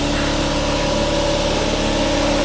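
A 2003 Harley-Davidson V-Rod 100th anniversary edition motorcycle idles loudly and steadily nearby, a constant engine drone with no change in revs and no talk over it.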